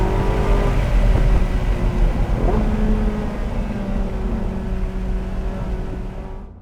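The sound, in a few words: Porsche 918 Spyder driving hard through corners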